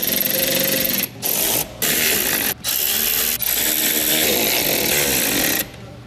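A power tool runs in several short bursts as it drives self-threading screws into a reproduction front bumper for a 1999-2004 Ford Lightning, a close, loud whirring buzz broken by brief pauses between screws.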